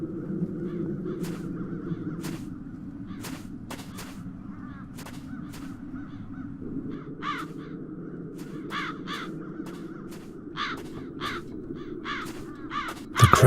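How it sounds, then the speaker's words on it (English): Crows caw repeatedly in the fantasy adventure game The Dark Eye: Chains of Satinav, harsh calls at irregular intervals over a low ambient rumble, moderately near. "The crows haven't left anything of the town's banner."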